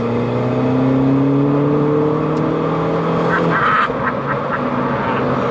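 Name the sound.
highly tuned turbocharged R56 Mini Cooper S accelerating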